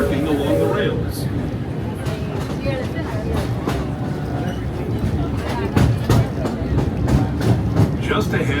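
The Disneyland Railroad train rolls along the rails with a continuous rumble and faint rhythmic clicking, while a voice announcement plays over the moving train throughout.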